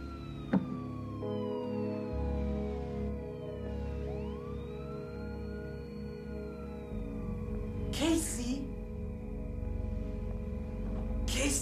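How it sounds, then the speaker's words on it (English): A police car siren wails in a horror movie scene, a sustained rising and falling tone heard at a distance beneath a tense musical score and low background rumble. "I think that was a police car."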